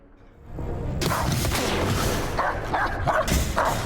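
A dog barks in the game Indiana Jones and the Great Circle, several loud, close yaps layered over a dense wash of game ambience and booming noise.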